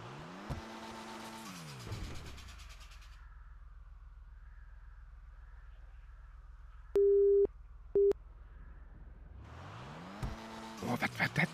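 A phone busy signal in a roleplay video game sounds as two short electronic beeps over a steady car engine drone, with an engine revving and rising at the start and end.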